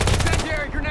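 K10 gun in the Call of Duty video game firing a rapid burst of automatic shots, loud and close, with faint background game noise and no talking.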